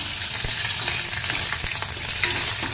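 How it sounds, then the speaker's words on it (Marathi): Coconut and garlic roasting in a pan give off a continuous close sizzle, with occasional scraping and stirring knocks from a spatula. "खोबरं आणि लसूण भाजून घेत आहे, बघू शकता"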